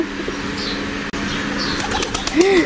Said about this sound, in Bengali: বারবার যখন কবুতর গুলো উড়া চলে যায়